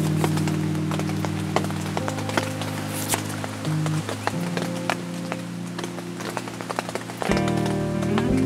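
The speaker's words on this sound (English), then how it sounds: "It's so bucketing right now" Heavy rain pouring down on a campsite, a dense steady patter with scattered sharper drops hitting nearby surfaces, continuous throughout against a low background hum.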